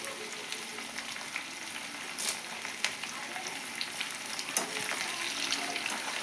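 A sprig of curry leaves fries in hot tempering oil for tamarind chutney, giving a steady close sizzle with brief crackling pops and occasional stirring.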